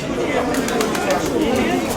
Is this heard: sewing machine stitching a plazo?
no